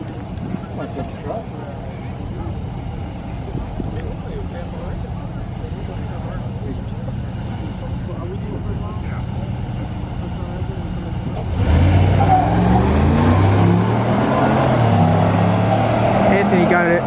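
A 2018 Chevy Silverado Z71 and a 2019 RAM 1500 drag racing, with distant engine drone under crowd noise that gives way to a louder, rising rev as the trucks launch, people talking over it.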